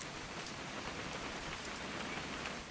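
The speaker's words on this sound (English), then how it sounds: "It's gonna rain the whole weekend, isn't it?" Steady rain pouring down in the video game What Remains of Edith Finch, a dense even hiss of drops on surfaces with no break and no voices.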